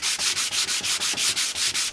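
A router cuts an edge profile into wood in short, even passes, a loud, rough hissing whir that swells and dips about a dozen times in a fast, regular rhythm.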